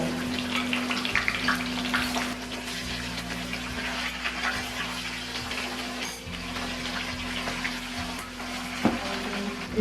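Sweet corn kernels frying in hot oil over a medium flame for a crispy corn snack, giving a steady close bubbling sizzle with a constant hum beneath and no talking.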